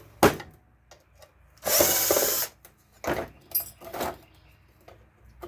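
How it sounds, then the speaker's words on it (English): A power drill backs screws out of a plastic tanning bed control panel, with one long whirring burst in the middle and several shorter spurts after it, plus a sharp click at the start. "Alright, let's start taking some screws out."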